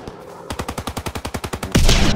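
Fighter aircraft strafing run in Call of Duty: WWII, a rapid burst of about fourteen evenly spaced heavy gunshots followed by a loud rushing blast as the run ends, with no voices.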